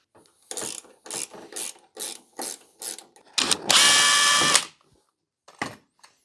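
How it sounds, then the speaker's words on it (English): Bolts being worked loose from the front cover of a Yixiang MB56 battery, a series of short ratcheting, rasping tool bursts followed by one longer continuous whir and a final pair of brief clicks, close and loud with no talking. "I'm going to have to take this bolt out and the bolt down there off"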